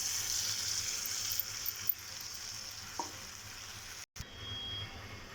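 Oats stirred into sautéed vegetables in a pan for oats upma, with a steady close sizzle and frying hiss, a few soft scrapes of the spoon, and a brief break near the end before the sizzling resumes.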